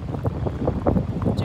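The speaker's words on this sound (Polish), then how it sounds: "38 stopni, wiatr." Hot evening wind in Phoenix, Arizona rumbles against the microphone steadily and fairly loud, with a few gustier bursts along the way.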